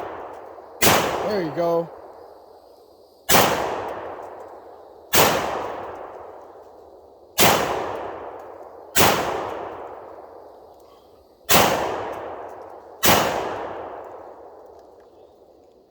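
A Panzer Arms SCR XII shotgun fires through a magazine outdoors: seven loud, sharp blasts at irregular intervals, each with a ringing decay, and a brief metallic clatter after the first shot. Someone speaks briefly.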